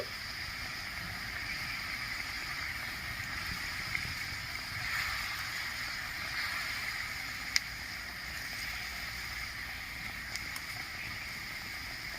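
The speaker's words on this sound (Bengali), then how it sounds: "ঝোলটা ফুটে উঠেছে" Gravy for a Bengali prawn-stuffed pointed gourd curry boiling in a pot, a steady, moderately loud bubbling and gurgling hiss that holds even throughout, with a few faint clicks and no talking.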